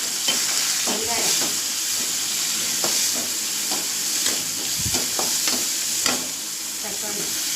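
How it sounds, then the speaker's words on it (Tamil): Onion, tomato and curry leaves fry in oil after fennel seeds have crackled, giving a constant loud sizzle and hiss in the pan, punctuated by regular scraping knocks of a spoon stirring. "சோம்பு பொரிஞ்சதும் வெங்காயம், தக்காளி, கருவேப்பிலை போட்டு நல்லா பச்சை வாசனை போக வதக்கணும்"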